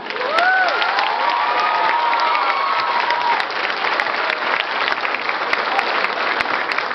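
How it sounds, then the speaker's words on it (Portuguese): An audience applauding baby Jesus at a Christmas nativity celebration: loud, continuous clapping from a crowd with a few cheers and high voices at the start. "vamos dar uma salva de palmas para o nosso Jesus"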